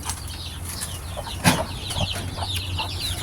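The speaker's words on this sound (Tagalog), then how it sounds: "marami tayong mga sisiw dito mga idol napakarami sisiw ngayon" Chicks and chickens on a farm: busy high peeping from many chicks mixed with hen clucks and a brief wing flap, close and continuous, with no talking.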